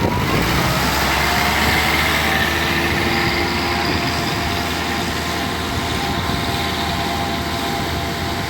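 A Ford 2N tractor engine runs steadily and continuously at close range, a rough even drone with no talking over it.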